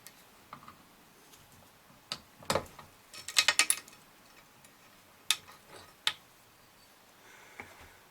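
A drill press chuck key on a short tether is worked in the chuck, giving scattered clicks and ratcheting ticks. Several quiet taps are followed by a denser burst of clicks near the middle, then a few sharper isolated clicks, with no talking.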